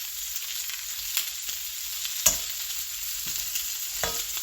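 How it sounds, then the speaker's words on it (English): Ground chicken burgers fry in a pan with a steady, soft sizzle, while a few sharper pops and clinks stand out now and then. Nobody speaks. "I don't want to overcook these burgers"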